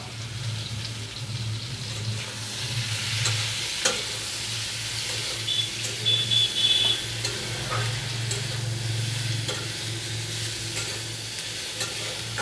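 Jackfruit curry with tomato fries in a pan, a steady loud sizzle with the scrape of stirring running through it, no voices.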